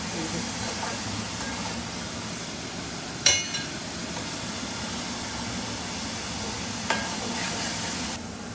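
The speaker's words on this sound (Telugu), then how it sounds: "మనం ఇది మంచిగా ఫ్రై చేస్తాం అనమాట" Onions fry steadily in a pan with a constant hiss and sizzle, close by, broken by a couple of brief clinks or stirring knocks, with no speech heard.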